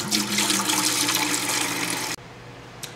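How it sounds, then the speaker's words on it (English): Milk pours from a container into a stock pot for mozzarella cheese, a close, steady splashing gush lasting about two seconds before cutting off abruptly, followed by a faint knock. "we're going to go ahead and add our milk now to our stock pot"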